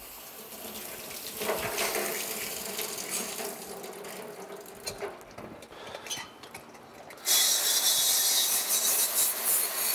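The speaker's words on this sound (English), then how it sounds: "So we turn on the water here." Water from a tap runs steadily into a sink to rinse silver items just cleaned in an ultrasonic cleaning system, a continuous hiss that grows louder and brighter near the end, with faint rubbing and clinks.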